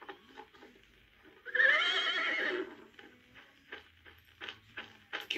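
A horse gives a loud, drawn-out whinny lasting about a second in a 1978 western television scene, with faint rustling and movement around it.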